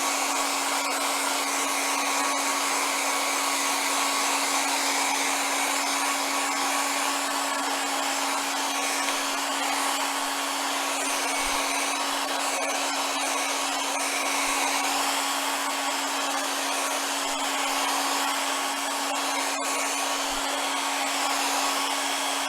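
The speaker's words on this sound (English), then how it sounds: "If you don't have time to, you can use a hairdryer" A hair dryer blows steadily and loudly on a painted plate, a constant close whooshing drone with a fixed motor hum that runs unbroken throughout.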